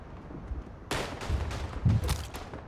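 Gunshots in the World War I shooter Verdun, a sudden burst of rifle and machine-gun fire at moderate distance with several sharp cracks over low rumble, faint overall.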